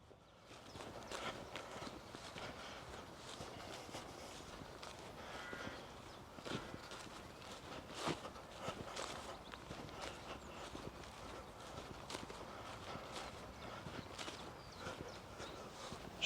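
Horses walking across a riverside field near a barbed wire fence, hooves thudding softly and unevenly at a distance, with crows cawing faintly over the steady outdoor background.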